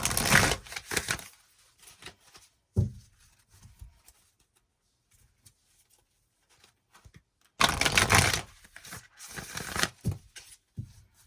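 Oracle cards are shuffled and pulled, giving bursts of riffling, rustling paper close to the listener, separated by quiet gaps and small taps.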